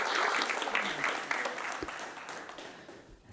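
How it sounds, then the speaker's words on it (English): Applause from a tech talk audience fills the room, a moderately loud wash of clapping that gradually thins and fades out over a few seconds. "Big round of applause, please."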